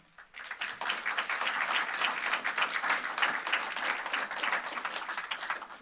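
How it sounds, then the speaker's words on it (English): Applause from the audience at a county board meeting, a sustained burst of many hands clapping that swells quickly and holds steady, with no talking. "I would ask you to refrain from applause"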